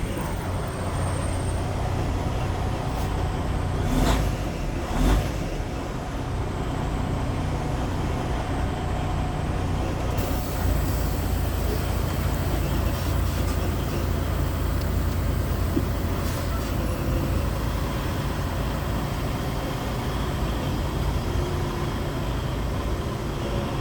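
A Western Express semi truck drives along the road on a North Carolina delivery run, heard from inside the cab as a loud, constant low engine and road rumble with occasional knocks and rattles.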